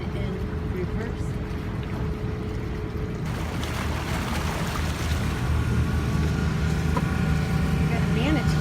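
Twin boat engines off Key Largo maneuvering with one engine in reverse to spin the boat in place: a steady low rumble with water wash, continuous and fairly close throughout.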